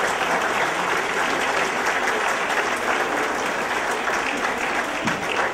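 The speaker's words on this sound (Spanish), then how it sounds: "Démosle un aplauso a este maravilloso de graduando." Loud, sustained applause from a large audience at a university graduation ceremony, a dense, even roar of many hands clapping throughout.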